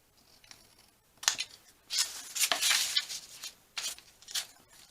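Scissors slice through paper while random squares are cut out for junk-journal faux stamps, several longer rasping cuts in bursts, close and fairly loud, with no talking.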